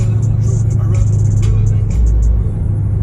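Loud, low Chevy Corsica engine rumble idling and swelling slightly, a deep steady throb close by with faint higher whirring on top.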